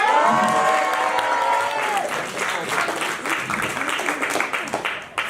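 A comedy-show audience bursts into applause and cheering, with loud sustained clapping from a full crowd and a whoop at the start, then a gradual taper. No talking.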